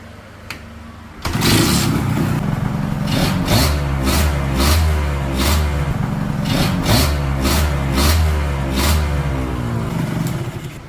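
A small two-stroke engine with a clogged exhaust starts and revs repeatedly, its rough, sputtering exhaust rising and falling in steady loud pulses, close up.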